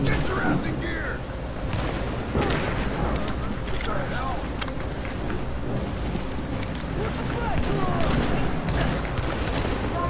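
Sniper and other gunfire in the video game The Division, with repeated shots and blasts over dense, continuous game action while players talk throughout.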